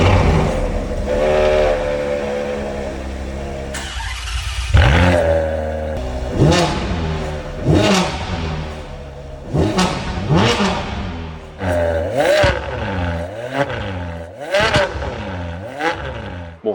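A supercar engine at a car show is revved hard again and again, each rising and falling howl coming close and loud, with short idle gaps between the bursts.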